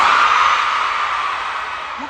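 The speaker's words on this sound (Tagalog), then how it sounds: "Lakasan niyo yung mga palakpak at hiyaw, ha?" A large crowd of fans roars and cheers loudly at a celebrity fan meeting in Manila, a dense wash of yelling that slowly fades a little.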